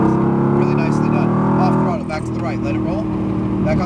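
A Mercedes-AMG GT R engine roars at full throttle on a track at Speed Vegas, a loud sustained engine drone that shifts pitch midway, heard under an instructor's continuous talking.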